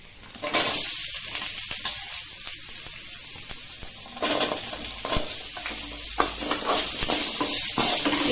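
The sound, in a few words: onions frying in a pan for Thattuvadai set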